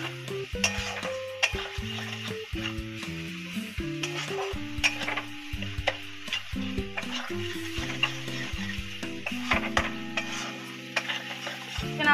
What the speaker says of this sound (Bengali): দেখতে পাচ্ছেন মশলাটা কষাচ্ছি আমি